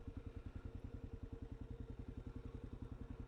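A Kawasaki KLR650 motorcycle engine idles steadily outdoors in Arizona, its low, even chugging pulse repeating rapidly and close by, with no voices.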